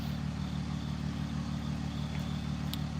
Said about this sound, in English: Loud and big trucks out here.